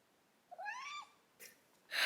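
A cat gives one clear, drawn-out meow close by, rising then falling, followed by a couple of short breathy huffs.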